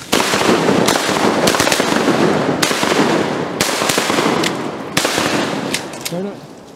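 Shotgun blasts from a duck hunt in -15 degree Arkansas cold, several loud sharp reports spaced a second or so apart across the stretch, with a voice faintly audible near the end.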